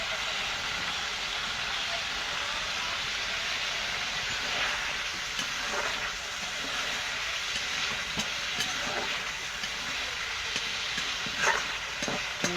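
Magur fish curry with ground garam masala sizzling steadily in a pan while being stirred, a dense continuous frying hiss with occasional scrapes and clinks, close and loud throughout.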